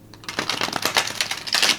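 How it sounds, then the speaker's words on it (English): Rapid papery riffling of stiff cards, a few quick shuffle bursts in close succession, crisp and close with no talking. "they seem to riffle shuffle well"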